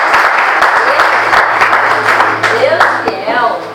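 An audience breaks into dense, steady applause that stays loud throughout and starts to thin near the end, with a voice speaking over the clapping.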